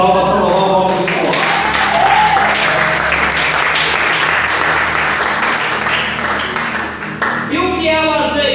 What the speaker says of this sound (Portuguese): Pode bater palmas para louvar o nome do Senhor.